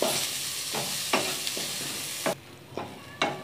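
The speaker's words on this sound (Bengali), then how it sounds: "আমার পেঁয়াজগুলো ভাজা হয়ে গেছে।" Onions frying in a pan for an aubergine mash, a dense steady sizzle with several distinct spatula scrapes, the sizzle dropping away sharply partway through while scraping continues.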